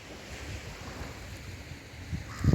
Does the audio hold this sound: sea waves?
yes